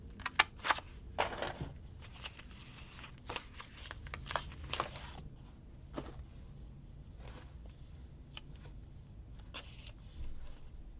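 Scissors snip through paper while Christmas gift tags are cut out, a run of crisp irregular cuts and rustling handling noises, close and fairly quiet with no talk.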